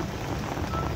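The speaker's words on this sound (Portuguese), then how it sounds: "Hoje amanheceu chovendo em Ponta Grossa." Steady morning rain falls across an outdoor environmental park in Ponta Grossa, a dense, even hiss with no gaps, fairly loud and close, with no talking.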